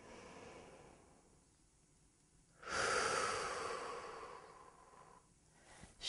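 A deep inhale drawn during an arm-stretching exercise for easing computer-related hand and arm strain, a loud close breath rising after a quiet stretch, then slowly fading, with another breath starting at the end.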